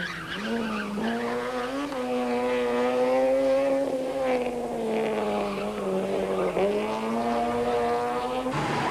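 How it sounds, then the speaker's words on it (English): Fiat Uno rally cars race through a 1990 rally stage heading west towards Lichtenberg. Loud, sustained engine whine rises and dips in pitch as the cars accelerate and shift, with no voices over it. "There's just no stopping the Unos as they race through the stage and west towards Lichtenberg"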